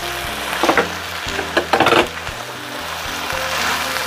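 Spices with ground coriander, pepper and sugar stir-fried in a pan for a village-style cassava leaf and anchovy curry, a steady sizzle with a few scraping stirs of a utensil, close and alone.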